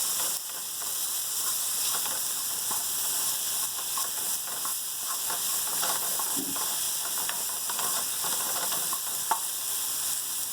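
Zucchini pasta frying in a pan gives a steady, bright sizzle with light stirring clicks and scrapes of a spoon throughout, with no one talking.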